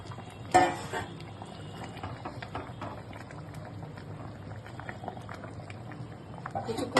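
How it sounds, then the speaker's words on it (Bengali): Katla fish curry for doi katla simmers in a pan, a soft continuous bubbling and popping with a few sharper clicks and a brief louder clatter near the start. "এবার তরকারিটা আমার ফুটে গেছে, এবার আমি মাছটা দিয়ে দেবো"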